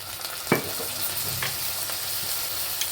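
Chicken fried rice with chopped fried egg being stir-fried in a pan, a constant bright sizzle broken by a few sharp spatula scrapes and knocks, with no one talking.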